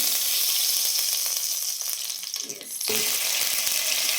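Butter and two tablespoons of oil sizzle loudly in a non-stick pan, a steady dense hiss throughout with a brief dip and a soft stir in the middle before the crackle resumes.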